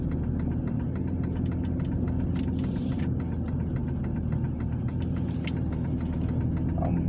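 Car engine droning steadily while driving down a residential road in Ozark, Alabama, a continuous low rumble with road noise and no talking.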